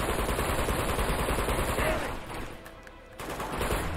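Rapid automatic gunfire from the video game Uncharted 2: Among Thieves, a steady dense stream of shots that dips briefly midway before resuming at full loudness.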